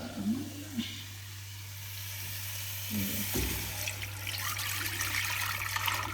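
Water is poured into the tub of an automatic carpet washing machine, a steady trickling and splashing that runs for several seconds at close range with no talking, alongside a constant low mechanical hum.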